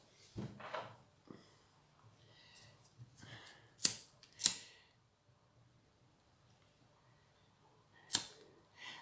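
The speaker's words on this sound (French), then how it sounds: "Je coupe." Scissors snip thread at a craft table, a few sharp, quiet clicks scattered among soft handling noises in an otherwise hushed room.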